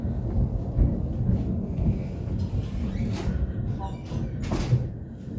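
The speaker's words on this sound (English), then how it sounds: "the house is shook with the with thunder" Thunder rumbles deep and heavy through a house during rain in Belgium, a continuous low roll with a few sharper cracks and rattles on top, fairly close and without speech.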